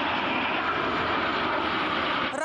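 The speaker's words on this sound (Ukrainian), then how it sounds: "Першими в небо здіймаються винищувачі і в повітрі з'являється прапор Франції" Fighter jets fly over the Le Bourget air show in France in a loud, steady, close roar of engines that holds the whole time.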